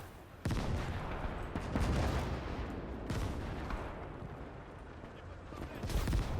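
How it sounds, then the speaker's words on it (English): Battle gunfire in Gates of Hell, a World War II video game, comes as dense bursts of rifle and machine-gun fire with heavy booms at the start, midway and at the end, sustained throughout at moderate level. "Under heavy gunfire, they will advance."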